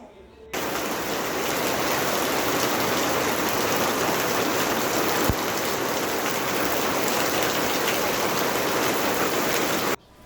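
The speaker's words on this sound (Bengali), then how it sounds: "যাকে বলে মুষলধারে বৃষ্টি।" Heavy rain suddenly pours down over a town in the afternoon, a dense continuous roar of downpour that starts abruptly, holds steady and loud, then cuts off.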